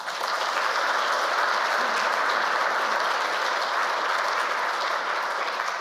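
Audience applause welcoming panellists at a panel discussion, a steady dense wash of clapping held at even loudness for several seconds with no talk over it.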